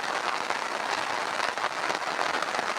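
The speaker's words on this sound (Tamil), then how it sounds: "கனமழை தற்பொழுது நம்ம ஏரியாவில் வெளுத்து வாங்கி வருகிறதுங்க" Heavy rain pours down in Tamil Nadu as a constant, close hiss of countless drops striking surfaces, with no voices.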